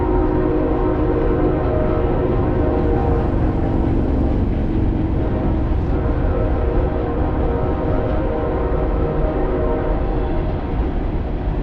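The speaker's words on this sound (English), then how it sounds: "We caught a train going over closer than what we were over there" A train rumbles past near a trail at Harpers Ferry, West Virginia, a loud, steady roar of wheels and cars on the rails with horn tones blended in, sustained throughout and close by.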